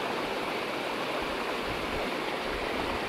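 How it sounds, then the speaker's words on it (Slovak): A cold mountain stream in the Western Tatras babbles steadily, a constant broadband rush of water over stones, close and even throughout with no voices. "studený potok žbonkajúci"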